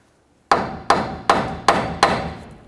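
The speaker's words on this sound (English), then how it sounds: "hit right along here on the knuckle to break the outer tie rod end free" Hammer striking the steering knuckle of a 1999-2007 Chevy Silverado to break the outer tie rod end free, five sharp metallic blows at an even, steady pace, close and loud, with no voices.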